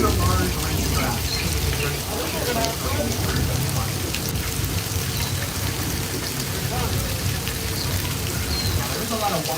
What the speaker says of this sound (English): Notice how big those raindrops are, but it's pouring.